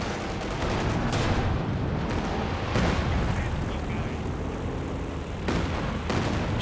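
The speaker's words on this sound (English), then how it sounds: "Katyusha, I don't think it would have gotten any kills with that barrage, just the one." A Katyusha rocket barrage in the real-time strategy game Company of Heroes 2 is a dense, continuous roar of overlapping launches and blasts with a few sharper booms, and faint voice may sit under the din.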